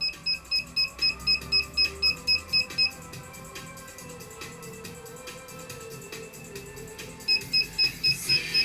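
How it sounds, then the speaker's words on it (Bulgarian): An EY 60 electronic fishing bite alarm sounds during a run, giving a fast, loud series of evenly spaced beeps near the start and again near the end, with a softer stretch between. "При рън, когато влакното се развива постоянно, звуковия сигнал не престава."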